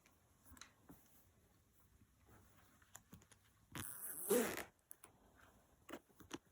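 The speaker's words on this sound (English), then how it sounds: "So there's your zipper opening." A boot zipper on knee-high boots pulled open in one steady, raspy zip, close by and fairly loud, with faint handling clicks and rustles before and after.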